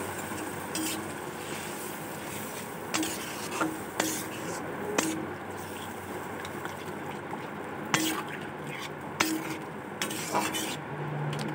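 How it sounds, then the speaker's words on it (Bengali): Vegetable and fish curry with five kinds of vegetables being stirred in a pot, quiet scraping strokes at irregular intervals over a soft bubbling and sizzling bed, close by with no talking. "নাড়াচাড়া করে ঢাকা চাপা দিয়ে রেখে দেবো।"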